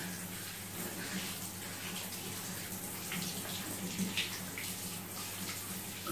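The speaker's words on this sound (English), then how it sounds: "now the water has become hotter and hotter, so I think we need to stop it" Tap water running steadily into a tub while a Norwegian Forest Cat is bathed, a close, continuous splashing gush with small shifts in intensity.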